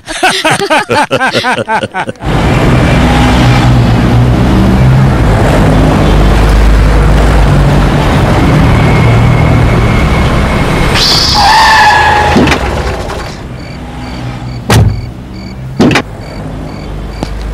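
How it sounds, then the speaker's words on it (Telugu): A car pulling to a stop with a punctured tyre, loud engine and road rumble with a squealing, scraping burst as it halts, then quieter knocks and clunks, with voices briefly heard. "టైర్ పంచర్ అయింది సార్, మారుస్తాను సార్."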